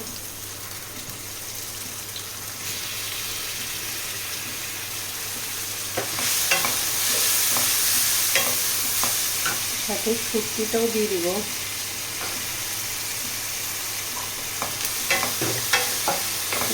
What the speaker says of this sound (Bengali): ঝোলটা ওরকম ঘন করবো না তো পেঁয়াজটাকে একটু ভেজে নিচ্ছি